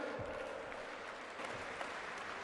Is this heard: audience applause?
yes